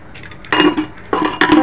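A metal lid is set onto a pot of paneer dum biryani, giving a few close clinks and clanks in short bursts, each with a brief ring.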